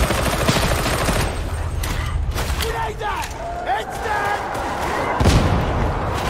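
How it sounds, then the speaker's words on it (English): Rapid gunfire from behind in Warhammer 40,000: Darktide, a loud, dense fusillade of shots and thuds running through the whole stretch with game effects mixed in. "They keep shooting from behind."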